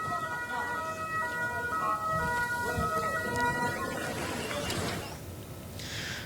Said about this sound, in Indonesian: Sirine peringatan serangan udara berbunyi lebih dari 15 kali di seluruh wilayah itu.